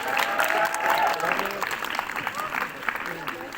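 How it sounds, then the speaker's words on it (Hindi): Enthusiastic applause from an audience at a Hind Public School function, a steady wash of many hands clapping with voices and crowd murmur mixed in throughout. "उनके लिए भी जोरदार तालियां बनती हैं।"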